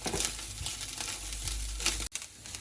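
Beef samosa filling is stirred in a pan, a steady close sizzle with scraping, shuffling spoon movements throughout the short stretch.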